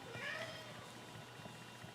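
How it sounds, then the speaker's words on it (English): A cat meows faintly in a quiet pottery studio, a single soft drawn-out call near the start over low room noise. "I'm actually not meowing in the video. That is my cat."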